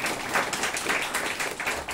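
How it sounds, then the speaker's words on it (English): Audience applause at a business workshop, a steady wash of many hands clapping together, dense and continuous at moderate loudness with no talk over it. "Round of applause for sir."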